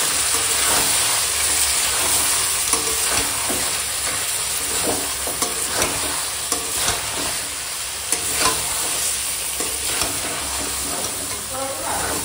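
Meat is sautéed with turmeric, Kashmiri and hot chilli powders and salt, starting to stick to the pan: a loud, steady sizzle with repeated rhythmic scraping of a spatula throughout.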